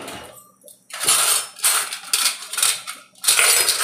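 Food being turned in a pan with a utensil and then covered, giving close metallic scrapes and clattering bursts of uneven length separated by short pauses, with no talk.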